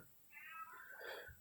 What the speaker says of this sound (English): I have to let my cat out, I think.